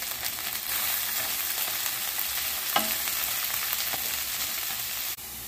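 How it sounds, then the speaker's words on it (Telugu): Cabbage and green chillies sizzle steadily in a hot pan for veg fried rice, a dense, continuous frying hiss with a few soft stirring scrapes and a brief clack near the end. "పచ్చిమిర్చి వేగిన తర్వాత క్యాబేజీ వేసుకోవాలి. పచ్చివాసన పోయే వరకు వేయించుకోవాలి."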